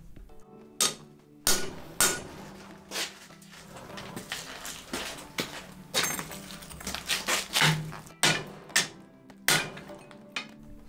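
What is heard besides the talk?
hammer peen striking cross notches into Damascus steel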